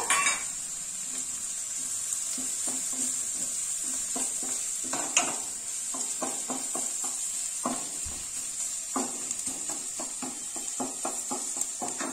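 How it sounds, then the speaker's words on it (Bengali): Chopped garlic and onion fry in hot oil for a soupy chicken momo broth. A steady, close sizzle hisses throughout, broken by frequent light clinks and scrapes of a spatula against the pan. No voices. "এটাকে তেলের মধ্যে আগে একটু ভেজে নেব"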